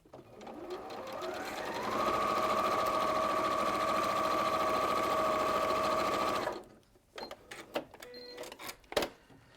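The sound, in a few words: sewing machine stitching a seam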